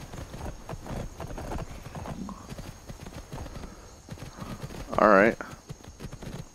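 Horse hooves clip-clop softly in modded Skyrim, a steady patter of steps under a man's speech, with a short whinny-like burst near the end.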